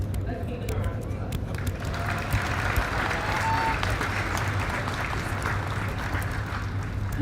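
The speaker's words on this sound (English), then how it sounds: "Let's give them a round of applause." Steady, sustained round of applause from a large crowd honouring faculty and staff, dense clapping at an even level throughout with cheering mixed in.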